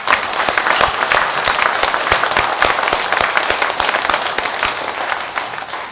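Church congregation applauding together, a dense, steady wash of many hands clapping that fills the whole stretch at close range, with no voices standing out.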